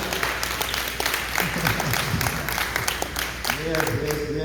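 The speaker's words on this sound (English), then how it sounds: "let's give another big round of applause." Audience applause at a talent show held at a community outreach center, a dense steady patter of many hands filling the room throughout, with voices and some cheering mixed in near the end.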